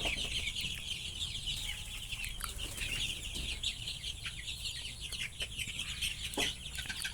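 Sonali chickens cluck in a busy, continuous chorus inside a poultry shed fitted with bamboo perches, many birds calling at once at moderate volume.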